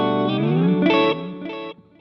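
An Ibanez SDR-1000+ rack effects unit plays a preset with delay on one side and reverb on the other, turning a short tonal phrase into a smeared, echoing tail that fades out quickly.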